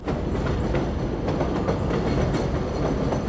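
A New York subway train passes up close, a loud continuous rumble with rhythmic clickety-clack from the wheels over the rail joints.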